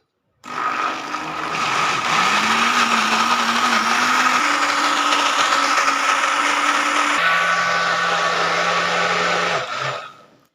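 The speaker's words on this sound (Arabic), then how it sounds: "هنضرب بقى مع بعض كل الخلطه بتاعتنا دي لحد ما الخليط بتاعي يبقى متجانس كده" A blender whirs loudly and steadily for about ten seconds, blending Syrian garlic sauce (toum), its motor pitch rising slowly and then shifting lower near the end before stopping.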